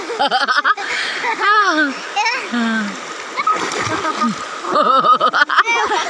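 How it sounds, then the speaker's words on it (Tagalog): Water runs and splashes in a shallow river where people are bathing, with children's voices and giggles mixed in throughout and busier splashing near the start and end. "Running water."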